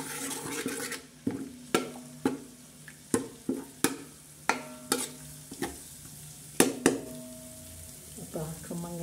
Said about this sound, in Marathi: तो असा खमंग असा त्याला तळून घेणार आहोत